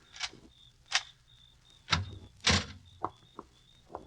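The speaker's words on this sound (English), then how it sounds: "Now, open the door, Ruth." A door opens in a 1944 radio suspense drama, heard as a series of sharp knocks and clicks from the latch and hinges, spaced out over a few seconds against a faint steady background tone.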